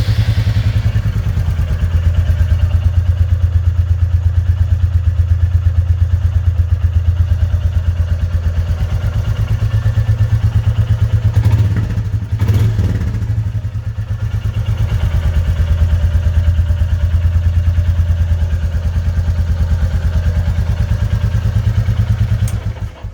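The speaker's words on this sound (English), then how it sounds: "the very last thing is the sound of this bike" A warmed-up Royal Enfield Classic 350 motorcycle idles close by with a loud, steady single-cylinder thump, its even rhythm briefly wavering midway before settling again, with no voices.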